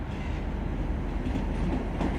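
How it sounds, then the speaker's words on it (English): A British Rail Class 319 electric train runs past at a Manchester Airport station on the Styal Line, giving a steady, loud rumble of rolling stock with faint wheel clatter and no talk. "I think that could be my train."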